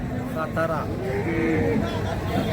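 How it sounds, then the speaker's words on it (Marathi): A cow moos in a drawn-out call at a busy cattle, bull and buffalo market in Karad, Satara, its low voice rising and falling against background crowd noise and murmured talk. "त्या मंडळी तुम्ही गाय बघू शकता"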